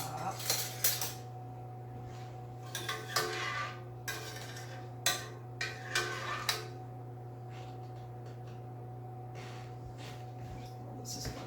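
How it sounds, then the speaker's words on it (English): Spoon clinks against a pan or dish as lemon sauce is spooned over chicken, a scattered series of sharp metallic taps and scrapes over a steady low hum, with soft breathing between. "we're going to take a little bit of that great lemon sauce and spoon it over the top"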